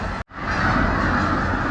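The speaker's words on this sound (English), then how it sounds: "Look at the geese." A large flock of geese honks in a dense, continuous clamor of overlapping calls outdoors at a harness racing event, loud and close, broken by one brief dropout near the start.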